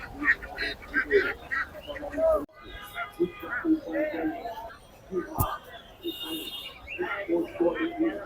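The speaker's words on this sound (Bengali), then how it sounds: "প্রচুর পরিমাণে হাঁস আছে" Ducks quack at a busy poultry market in Tongi, with short, scattered calls close by, mixed with steady talk from traders and other market noise.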